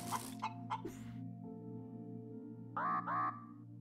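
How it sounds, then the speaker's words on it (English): Chicken clucking in the space-survival video game Breathedge: a few short bursts near the start and two louder, tonal clucks toward the end, heard over a steady low game hum. "So is the chicken still there?"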